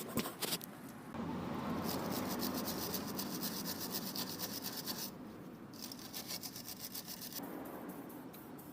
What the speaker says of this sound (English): giving it a bit of a clean with a wire brush